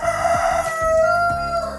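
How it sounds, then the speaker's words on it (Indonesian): A rooster next door crows loudly in one long drawn-out call over steady background noise. "bunyi ayam di sebelah nih, ribut banget ini ya"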